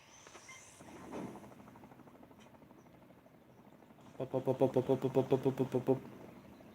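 A person imitates a helicopter with their voice, making a rapid, rhythmic chopping burst near the end after a quieter stretch of breathy sounds.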